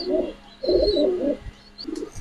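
A pair of racer pigeons, a bred racing line, coo close by in three or four throaty, rolling bursts with short pauses between them.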